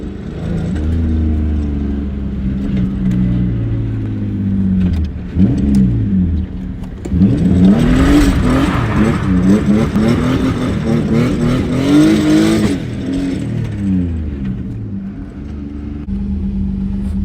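A turbocharged VQ35 car engine revs up and down repeatedly, loud and close, with rising and falling throaty surges and a brief pause between bursts.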